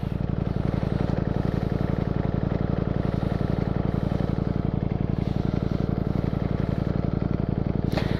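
A Ducati Streetfighter V4S motorcycle on the road makes a loud, close, continuous engine drone with a rapid, even pulsing, steady throughout, with a short sharp noise near the end.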